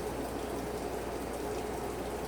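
Hot green hard candy syrup pours steadily from a pot, giving a continuous soft hiss and gurgle that stays close and alone, with no talking.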